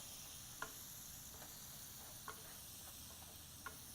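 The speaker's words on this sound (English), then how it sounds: "Just stir all these in." Onions and green peppers frying in a pan with a steady sizzle, broken by a few soft scrapes and taps of a spoon stirring them, close and fairly quiet, with no voices.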